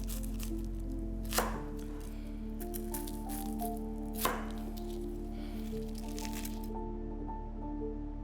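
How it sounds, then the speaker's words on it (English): A knife cuts through crispy deep-fried breaded pork tonkatsu, giving two sharp crunchy cracks a few seconds apart over a quiet kitchen hum, close and distinct with no talking. "when you're cutting into it, you want to cut through the top layer of breading first and then fast into the rest of the tonkatsu"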